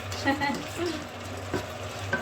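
Shrimp stir-frying with chili paste and onion in a hot pan, a steady loud sizzle with occasional stirring scrapes and clinks.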